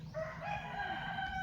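A rooster crows once, a drawn-out harmonic call at moderate distance, rising then holding steady over a low background hum.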